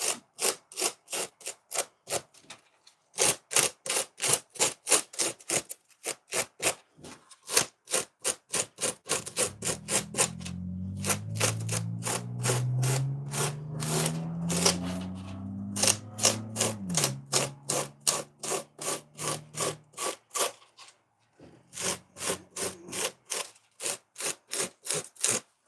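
Aggressive brush rasping material off a foam pumpkin sculpture in quick, rhythmic strokes, loud and close, with a longer sustained scraping passage in the middle before the short strokes resume.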